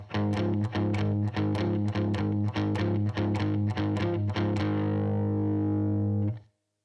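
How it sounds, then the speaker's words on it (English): Distorted electric guitar plays an upbeat boogie blues riff at a fast tempo, steady repeated picked notes over a held low root, ending with the final chord ringing out, no talking. "One of the cool things about the boogie riff is that you can play it faster for a happier, more up sound like this."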